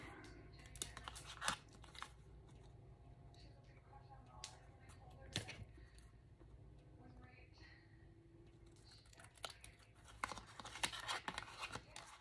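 Scissors cutting junk mail envelope paper into a tag shape, quiet intermittent snips and paper rustles at close range, with soft voice murmurs in the background.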